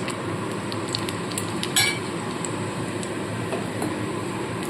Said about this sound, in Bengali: এবার এই তেলের মধ্যে আমি ফোড়ন দিচ্ছি দেখুন এখানে গোটা জিরে আর এখানে রয়েছে একটা তেজপাতা আর রয়েছে গোটা গরম মশলা